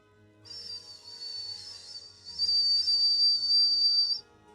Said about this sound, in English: So I can do like a light whistle sound.